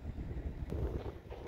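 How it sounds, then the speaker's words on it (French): Steady wind buffets the microphone at a seaside campsite at Cabo de Gata in Andalusia, a low, rumbling, gusty roar with no voices. "Il y a toujours du vent, hein."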